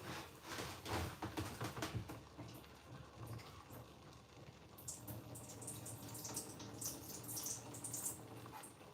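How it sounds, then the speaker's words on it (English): Liquid from canned food for chili pours and splashes steadily into a sink, a continuous watery rush lasting several seconds at moderate loudness. "I'm draining off some of the liquid in there"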